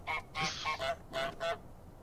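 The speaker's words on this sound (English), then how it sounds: "It won't let me make goose noise." In the video game Untitled Goose Game, a goose honks five or six times in quick, uneven bursts, loud, close and nasal, with short gaps between calls and no talk over them.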